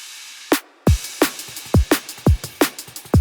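Reverb-only drum bus for a liquid drum and bass beat in FL Studio, heard alone: a steady pattern of short hits each trailing into a washy, spacious tail, about a dozen strikes over a few seconds, with no talking.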